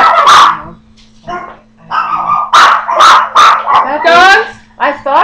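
Small dogs yapping and barking close by in a series of sharp, high bursts with brief pauses, one ending in a whiny yip.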